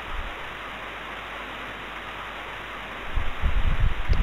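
Heavy rain in the Higurashi visual novel pours as a steady, dense hiss, joined near the end by heavier, closer splashing drops.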